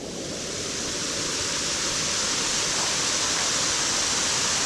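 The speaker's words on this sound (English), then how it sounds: "this much water is just dumping down" A large volume of water dumps down a rock wall into a fast-rising river, a loud, constant roaring rush that swells slightly at the start and then holds steady.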